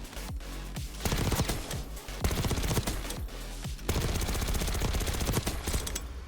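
Sustained bursts of GPMG machine gun fire in Black Ops 6, loud and close, with rapid repeated shots in long strings separated by brief pauses, and no talking.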